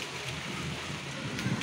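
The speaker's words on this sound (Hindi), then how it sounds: "बारिश गिर रही है, ये देखो दिख रहा है आपको बूंद बूंद पानी" Steady rain falls outdoors on a street, a dense continuous patter and hiss with no pauses, fairly close and moderately loud.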